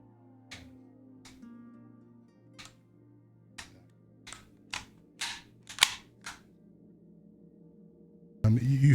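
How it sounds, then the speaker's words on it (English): A Kriss Vector .45 ACP has its charging handle worked, giving a run of sharp metallic clacks and snaps close by, spaced irregularly and growing louder, followed by a brief burst of noise at the end. "I like the way that the charging handle feels"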